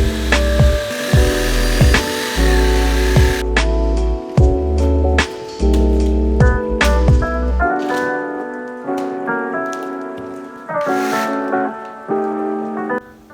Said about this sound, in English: The stud's 8 foot long, so I'm gonna cut from like right here, right there